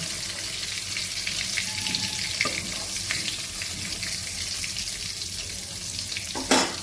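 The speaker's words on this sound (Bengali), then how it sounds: "এই তেলের মধ্যে আমি ফোড়ন দিয়ে দেবো ফোড়নে দিলাম একটা শুকনো লঙ্কা দুটো তেজপাতা" Dried chili and bay leaves temper in hot oil in a pan for a shrimp, kohlrabi and potato curry, giving a steady, close hiss and sizzle throughout, with one louder burst of crackling near the end.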